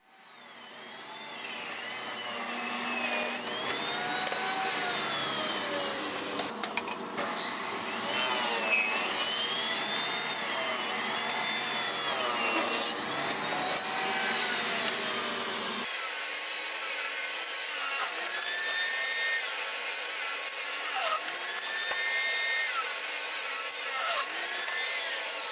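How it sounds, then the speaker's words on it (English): A table saw whines loudly and continuously while ripping oak boards, with the blade pitch wavering as each board feeds through and the motor tone shifting partway as the cut changes. "it's time to run through the table saw"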